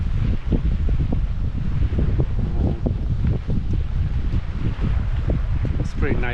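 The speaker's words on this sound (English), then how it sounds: "the wind is really cool right now" Wind buffets the microphone on a boat launch pier, a steady loud rushing roar with gusty bursts, while a person talks over it.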